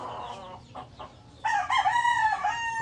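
A Kanawayan gamefowl rooster from a breeding trio clucks softly, then lets out a loud, drawn-out crow close by.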